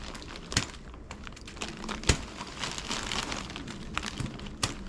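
Plastic bag from an abandoned storage unit being opened, with crinkling and rustling throughout and a few sharp snaps and crackles, close and moderately loud.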